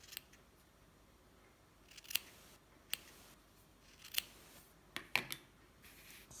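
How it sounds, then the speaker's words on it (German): Scissors snip the wool threads of a handmade tassel, giving about eight sharp, close clicks spaced irregularly over a quiet background, with no talking. "Ich nehme das dann immer gerne mal mit den Fingern und schneide die Fäden einfach ab, die mich stören"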